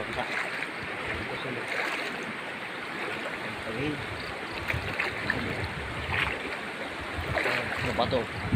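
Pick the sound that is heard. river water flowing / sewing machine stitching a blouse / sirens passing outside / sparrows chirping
river water flowing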